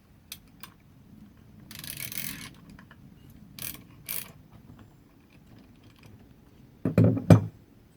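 Bolts being tightened with a ratchet on a Bitter SC fan clutch and water pump, quiet scattered clicks and short ratcheting bursts, ending in a louder clunking flurry near the end.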